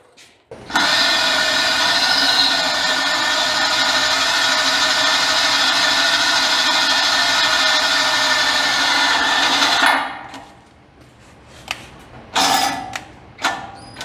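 A power drill bores into a homemade trailer, one loud, steady whine held for about nine seconds before it stops, followed by a few short clunks and rattles.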